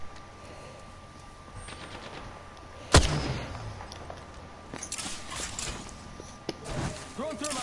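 Video game gunfire, one sharp close shot followed by scattered bursts and rattling fire further off, with a player talking over the action.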